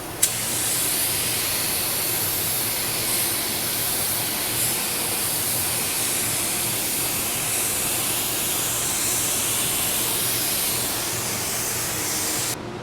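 A 3M Performance spray gun with a 1.4 tip sprays color build primer in a long, steady, close hiss that runs unbroken for the whole stretch, starting with a brief click of the trigger.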